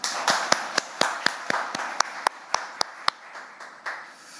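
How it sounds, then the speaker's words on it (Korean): Journalists at a National Assembly speaker's press gathering clap together, sharp distinct claps in a steady rhythm, fairly close, gradually thinning out toward the end. "그동안 고생하신 여러분께 서로 박수 한번 크게 치면서 시작하시죠."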